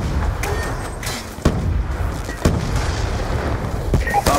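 Explosions thud repeatedly in Call of Duty: Black Ops 2 as equipment is destroyed on the Slums map, several sharp booms over a constant loud roar of battle noise.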